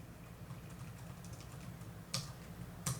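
Fast typing on a computer keyboard, a quiet stream of light clicks with two louder key strikes near the end, close by and with no voice.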